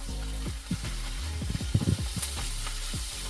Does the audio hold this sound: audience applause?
no